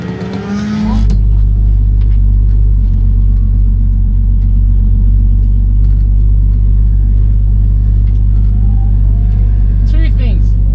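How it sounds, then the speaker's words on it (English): A 450-horsepower Ford Falcon drives onto the Bihoku circuit in Japan, its engine a loud, steady low rumble heard from inside the car, with a brief voice at the end. "Can't believe I'm driving onto Bihoku, and then extra can't believe I'm doing it in a Ford Falcon."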